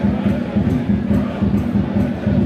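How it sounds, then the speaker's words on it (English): A football fan drummer and tambourine player keep a steady, loud rhythmic beat in the stands at a Bury FC match, regular thumps repeating under a murmuring crowd. "Actually, listening back, the tambourine man hasn't stopped either"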